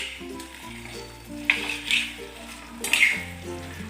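A spoon stirs thick methi amba, a mango and fenugreek relish, with jaggery in a pan, scraping and sizzling in two distinct passes over a steady background of soft music.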